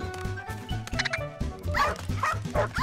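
A cartoon dog in an animated comedy yips and barks in a quick, excited string of loud, close yaps with a whimpering edge.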